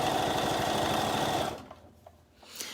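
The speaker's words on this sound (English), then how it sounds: "And I'm going to just start sewing down." A sewing machine runs a skirt seam in a fast, even whirring stitch for about a second and a half, then stops, leaving quiet room tone with a faint tap.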